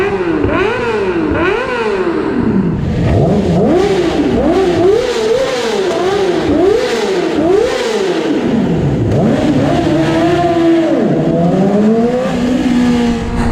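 A 2007 Yamaha R6 sport motorcycle revs repeatedly inside a tunnel, loud and close, with sharp rising and falling engine howls echoing off the walls and a few exhaust pops.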